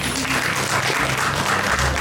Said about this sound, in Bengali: ছোট্ট নেতাজিকে আমরা জোরে হাততালি দিয়ে উৎসাহ দেব